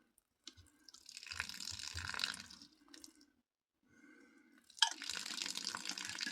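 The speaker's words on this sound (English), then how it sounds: "I got water running everywhere" Water running and dripping during a DIY cabin repair, soft intermittent splashing and trickling in quiet bursts that start and stop, close by and faint, with no talk.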